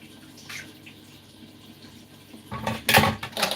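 A little water is poured while cooking, heard as a brief splashing pour that starts late and swells to a louder gush near the end, with quiet kitchen ambience before it.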